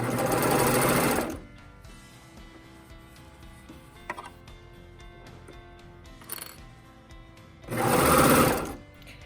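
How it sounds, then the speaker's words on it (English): A sewing machine sews a cardigan sleeve seam in two short, loud bursts, one at the start and one near the end, separated by a quiet stretch of faint fabric handling and small clicks. "I will sew a few stitches and then I'm going to readjust my sleeve."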